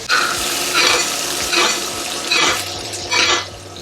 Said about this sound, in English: We're gonna add in our garlic, and then we got some butter. And then we're just gonna baste in the pan.